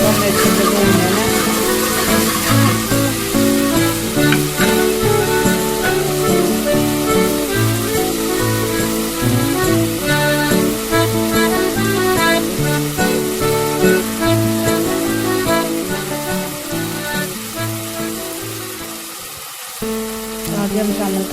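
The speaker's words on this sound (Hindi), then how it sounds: "इसको हमें अच्छे से भूनना है।" Mixed vegetables with green chillies fry in a pan, giving a loud, continuous sizzle that runs steadily for the whole stretch over a tonal, music-like background.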